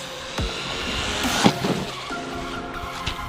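An MJX Hyper Go 14210 RC car driving fast over a jump outdoors, its motor whining and tires scrabbling, with a sharp thud of landing midway and continued revving afterward.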